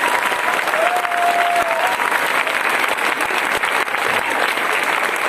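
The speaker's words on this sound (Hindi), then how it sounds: "खड़े हो जाइए सर, जोरदार ताली होनी चाहिए" Loud, sustained applause from an audience at a company event honouring its founder, dense clapping filling the whole clip at steady volume, with crowd noise mixed in.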